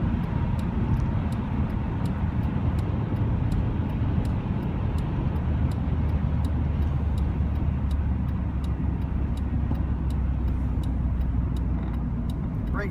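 A 2000 Honda Civic cruises on the highway, its engine droning low beneath steady road and tire rumble inside the cabin, with a faint regular ticking running throughout.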